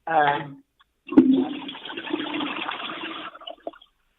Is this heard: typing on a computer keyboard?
no